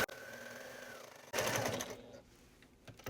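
A sewing machine stitches a seam on a fabric pumpkin trick-or-treat bag in one short, loud burst of rapid stitching, after a low steady hum and before a brief pause.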